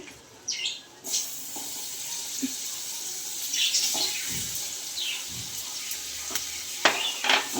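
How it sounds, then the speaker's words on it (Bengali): Onion fries in oil in a pan for a Bengali kochur loti and prawn dish, a steady low sizzle with stirring scrapes and a few sharper clatters, heard close. "পেঁয়াজটা এবার তেলের মধ্যে দিয়ে দেব"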